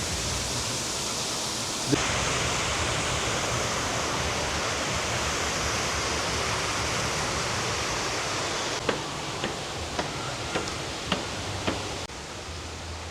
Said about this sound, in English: This is like the coolest shot ever, man. Of the waterfall.